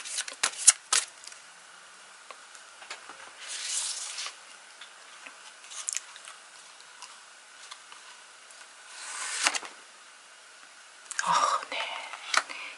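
Tarot cards shuffled and rubbed in quiet bursts of papery riffling and sliding, close and soft with gaps of near silence between.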